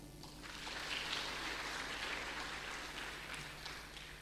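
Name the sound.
audience clapping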